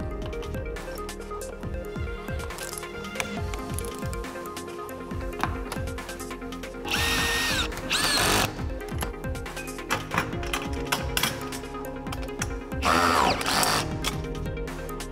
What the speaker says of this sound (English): we use the C-Fix standing seam clamps and fix them with a set screw at the seam